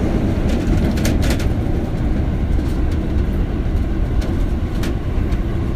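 Toei 10-300R electric train on the Shinjuku Line running steadily, a continuous loud low rumble with faint intermittent rail clicks and squeals, no voices.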